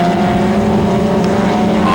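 A BMW touring car in a 1998 race at Killarney, its engine droning loudly and steadily with a sustained harmonic whine throughout, no voices over it.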